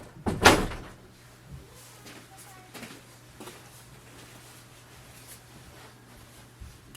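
Lifting the ink cartridge access door on an HP Envy Photo 6200 printer gives one sharp, close plastic clack near the start, followed by faint handling rustles and a low steady hum.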